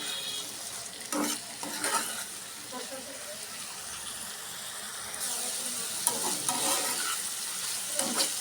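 Potato and eggplant pieces fry in spice paste in a pan, a soft sizzle broken by repeated stirring scrapes, with a voice talking intermittently.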